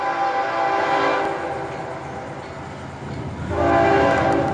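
An FEC freight train, number 202, passes with its horn sounding in long loud blasts that fade and return, over a rumbling rail roar.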